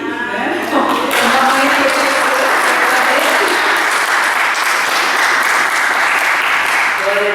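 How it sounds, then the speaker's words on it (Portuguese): Sustained applause from a church audience, loud and dense, with a voice talking over the start before the clapping carries on steadily. "eu também quero pedir uma salva de palmas para Jesus"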